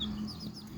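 A chicken clucks close by in a short burst of throaty calls, loud and alone.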